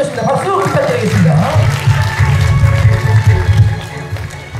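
An audience at a belly dance competition awards ceremony claps loudly and steadily, a dense wash of applause with a brief announcer's voice at the start.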